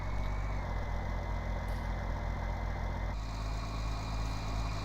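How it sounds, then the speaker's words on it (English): A tractor engine idling and running steadily in a farming video game, a low constant rumble with a slight shift in tone partway through, alone without voices. "That is a really nice tractor."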